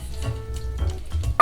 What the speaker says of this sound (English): It's gonna boil a little bit until the sugar is really good and dissolved in there